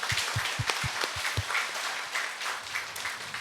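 A church congregation at a Wednesday worship service breaks into applause, a dense burst of many hands clapping in a large room, strongest at first and then trailing into scattered claps.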